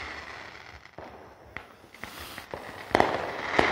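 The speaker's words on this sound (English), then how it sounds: "That's some fucking dragon's breath fireworks right there." Dragon's breath fireworks going off outdoors ahead of the Fourth of July, a string of sharp crackling pops and bursts at mid distance, growing louder and denser toward the end.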